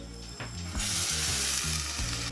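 Mushrooms in a pan burst into a loud, bright sizzle as sauce is added, the frying hiss swelling and holding steady, with rhythmic low clunks and scrapes from stirring or the pan underneath.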